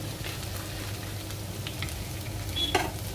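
Finely chopped ginger and browned garlic frying in hot oil on high heat for palak paneer, a soft continuous sizzle with light stirring scrapes and a brief clink near the end.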